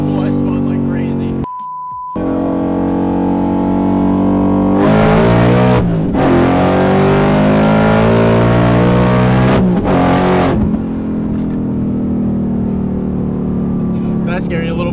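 A Ford Mustang with a Holley Sniper system launches hard with heavy wheelspin, its V8 revving loudly and rising in pitch through several surges. Brief talk comes before the launch and resumes afterward.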